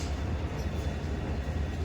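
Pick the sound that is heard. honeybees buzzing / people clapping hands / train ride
train ride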